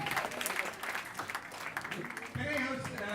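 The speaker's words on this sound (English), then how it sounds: "A huge round of applause for Murli ji." An audience at an event breaks into a round of applause, with steady, dense clapping throughout and crowd noise mixed in. The clapping swells a little toward the end.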